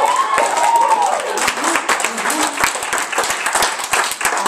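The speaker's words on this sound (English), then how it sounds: "Can you please give Gretchen another round of applause?" An audience at a performance poetry event applauding a poet, loud close clapping from many hands with sharp individual claps standing out, plus a few voices and cheers mixed in.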